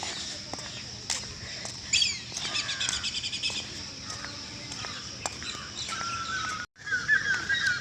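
Birdsong chirps and trills ring out across a busy ambient background, with a brief cutout near the end before the calls resume.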